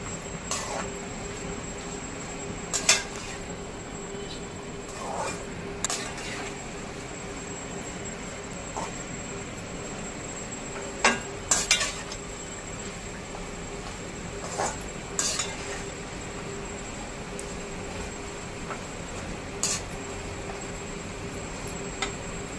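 Thin poha chivda being stirred and roasted in a kadhai: soft scraping and occasional sharp metallic clinks of a spoon against the pan over a constant low hum, quiet and sporadic, with no talking.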